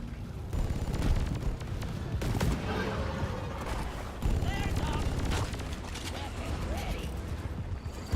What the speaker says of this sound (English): Trying to throw grenades at monsters.